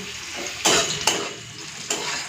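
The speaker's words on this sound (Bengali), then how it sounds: "হাই ফ্লেমে উচ্ছেটাকে ভেজে নেব" Partly steamed bitter gourd fries over a high flame, its hot sizzle broken by several loud scraping stirs of a spatula against the pan, with no voices.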